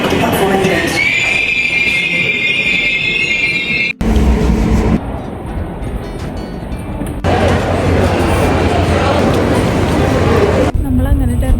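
Underground train on the way to an airport terminal, a loud steady rumble with squealing wheels and shifting mechanical noise that fills the whole span, with people talking over it.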